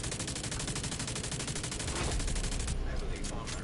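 Rapid automatic gunfire in The Division 2 rattles in a fast, even burst of closely spaced shots, loud and continuous for about three seconds before easing off.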